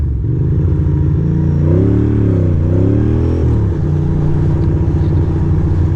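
A car engine revs loudly and steadily as the vehicle drives around a Brooklyn street on Halloween night, its pitch rising and falling in a sustained rumble.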